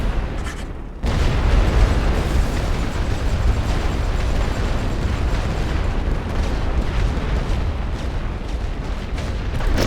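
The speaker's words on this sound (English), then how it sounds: "now we got field artillery" Sustained rumble of field artillery explosions in a World War I battle game, the Battle of Cantigny on the Western Front, with dense overlapping booms rolling continuously at loud level after a brief quieter opening.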